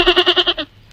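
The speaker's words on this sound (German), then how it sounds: "Ui, die hat aber eine sehr lustige Sprache, so eine kleine Ziege." A small goat at a zoo bleats in a loud, close, quavering cry, a rapid pulsing run of about six beats that stops abruptly.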